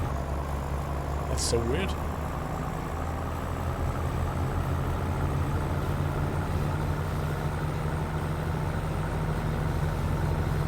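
A truck engine in a trucking simulator game revs hard while the rig stays in place, a steady low drone running the whole time beneath a voice talking over it.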